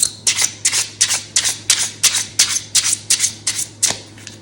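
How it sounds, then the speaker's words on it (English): Rapid, crisp riffling of slick plastic tarot cards, shuffled again and again in quick bursts, close and loud. "Do a good hard shuffle."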